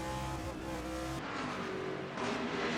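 Race cars in a stock-car racing video game at Bristol fight side by side as drivers try to overtake on the outside, engines droning steadily with shifting pitch and no voices over them.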